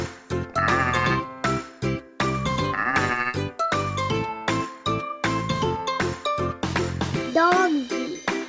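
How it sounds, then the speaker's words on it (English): Sheep bleat repeatedly in short, wavering calls over a bright, jingly backing tune, loud and close, with a voice in the mix. "Sheep."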